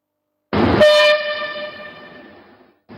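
A train on the Lagos-Ibadan standard gauge line gives a single loud, steady horn blast that begins abruptly after a short silence, holds for about two seconds and fades, with a low rumble beneath it.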